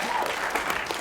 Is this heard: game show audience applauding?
yes